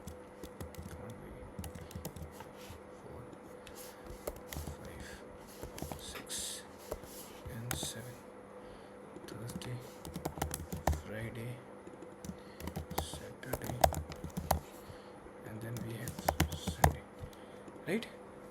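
Swift code is typed on a computer keyboard in quick, uneven runs of clicky keystrokes with short pauses, heard close up under a man's ongoing speech.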